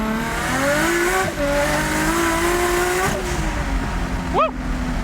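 A 700-horsepower Nissan Skyline GT-R R32 accelerates hard through second gear and up into third, its engine roaring loud and close with rising pitch, a sharp drop at each shift, and a brief chirp near the end.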